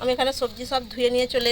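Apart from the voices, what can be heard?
No everyday noises stand out.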